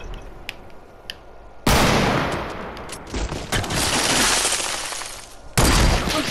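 Gunfire in a first-person shooter video game, no-scope sniping: loud sustained bursts of shots erupt after a quieter stretch of scattered pops, then a fresh heavy burst near the end.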